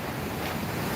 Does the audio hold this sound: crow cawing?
no